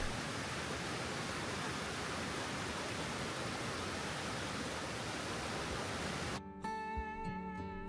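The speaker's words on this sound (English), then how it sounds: "the waterfall is right across the road, making it a quick and rewarding stop" Steady, loud rush of a roadside waterfall along the Icefields Parkway in Jasper National Park, a continuous broadband roar filling the scene before it suddenly cuts off near the end, with a brief tonal sound following.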